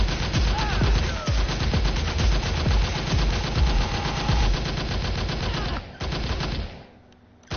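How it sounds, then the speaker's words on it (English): Rapid automatic gunfire from the VR arcade shooter Operation Warcade rattles in dense bursts with sharp individual shots, loud and close, then thins out and fades near the end. "Bang, bang, bang, bang."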